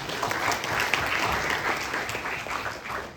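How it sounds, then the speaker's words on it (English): An audience applauds for students at a school success event, a steady, dense round of clapping that holds at an even level throughout without any voices. "So again a big round of applause for that."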